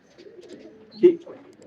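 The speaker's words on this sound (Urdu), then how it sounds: "یہ کبوتر وہ ہے جو میں نے پچھلی دفعہ دکھایا تھا" A black-faced female pigeon coos softly nearby, one low rolling coo rising in the middle over quiet background, with someone talking over it.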